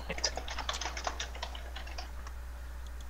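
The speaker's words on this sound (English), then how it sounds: "there's the famous typing" Rapid typing on a computer keyboard, a dense run of light, close clicks that gradually thin out, over a low steady hum.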